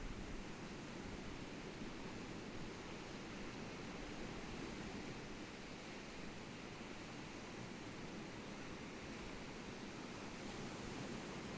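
Ocean waves make a soft, continuous wash of surf, steady and distant with no distinct breaks, and no voices over it.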